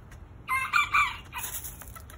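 Chickens being herded by a border collie, with a short, fairly faint series of clucks and a crowing-like call from the birds over quiet background.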